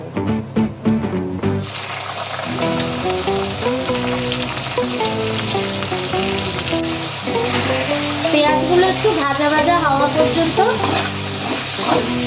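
Chopped onion hitting hot oil after a garlic tempering for a tangra fish tel jhal, a few sharp clattering drops and then a steady crackling sizzle that keeps running, with some stirring and a voice speaking over it.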